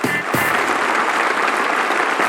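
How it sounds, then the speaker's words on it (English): A loud crowd of US fans cheers at a bobsleigh event in the Winter Sports 2009 video game, a dense, continuous roar of applause and shouting that sounds close and unbroken. "The US fans are a pretty loud crowd today."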